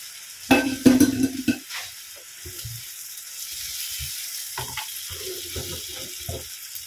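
Dried sapsap fish hits a pan of sautéed mung bean soup with tomato, giving a loud burst of sizzling and clattering stirring, then quieter intermittent scraping and bubbling as the mixture is stirred.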